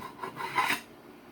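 A short, close rasping scrape as a tool strips leftover burr comb from a wooden beehive frame, one brief stroke rising and fading within about a second.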